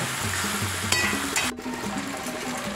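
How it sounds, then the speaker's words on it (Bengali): Chicken pieces cooked down in a pan after their water has dried off, giving a steady close frying sizzle with faint stirring scrapes throughout, no voices. "মাংসটা জল শুকিয়ে গেছে, আমি আস্তে আস্তে করে এবার কষিয়ে নেব"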